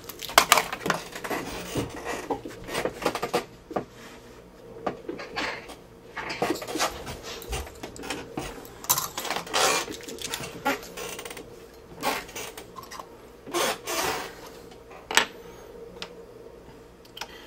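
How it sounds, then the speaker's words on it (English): Small screwdriver backing screws out of a Compaq laptop screen assembly, with scattered ticks, clicks and light scraping taps coming close and fairly quiet, without voices. "now let's unscrew this and get to the inverter board."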